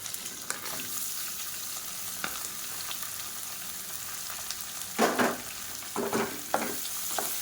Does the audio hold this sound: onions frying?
yes